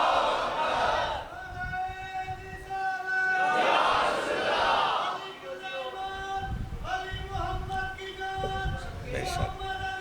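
Crowd at a Muharram religious gathering in an imambargah in Mandi Bahauddin shouting slogans back in unison, loud massed voices in rhythmic bursts with sustained tonal chanting and a speaker's voice between responses.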